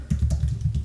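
Computer keyboard typing while markup code is entered, a quick run of close, steady keystrokes with no voice.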